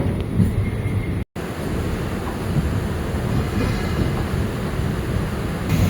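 An MRTS electric train runs between Velachery and St. Thomas Mount, a steady heavy rumble of wheels on rails close by, with one brief dropout early on and no talk.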